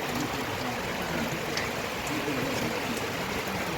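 Steady rain pours down outdoors, a dense, even hiss that continues throughout the clip with no one speaking.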